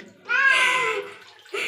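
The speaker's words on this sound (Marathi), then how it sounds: "पाणी टाकून आपण आंघोळ करून घेऊया." Water splashes in short bursts while a cat is being bathed after shampooing, close and fairly loud, with a second brief pour near the end.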